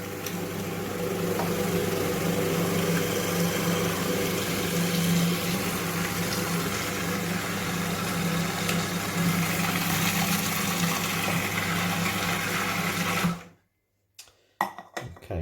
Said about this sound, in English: So this will get a little bit noisier, but hopefully not too noisy, because this is quite a nice quiet food processor.